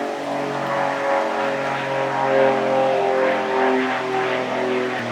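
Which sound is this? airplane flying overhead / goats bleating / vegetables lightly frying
airplane flying overhead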